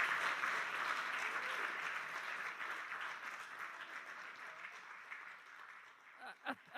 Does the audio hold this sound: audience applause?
yes